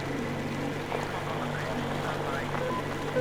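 Boat engine running steadily in the video game Metro Exodus, a constant low droning hum with a faint watery wash, close and even throughout.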